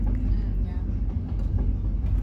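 A big freight train passing in Portland near Ashmont Street, a heavy low rumble that holds steady and strong for the whole stretch, with soft voices talking underneath.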